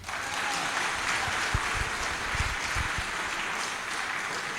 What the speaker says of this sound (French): Vous allez applaudir ça d'abord